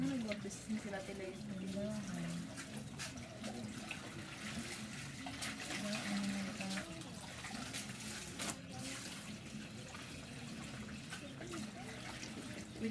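Water runs steadily from a tap while clothes are washed by hand, a continuous close trickle and splash with people chatting over it throughout.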